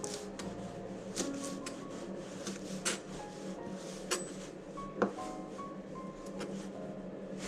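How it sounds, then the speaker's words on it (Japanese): Chinese chives being cut with a knife on a board, with faint, irregular chopping taps and soft scraping rubs at close range over a quiet room background. "ニラをね、だいたいこのぐらいで切っていきます。"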